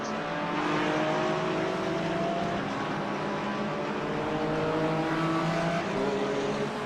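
Porsche race car engine in a Gran Turismo 4 racing game, a steady loud droning whine with rising gear-change harmonics, continuous and close throughout.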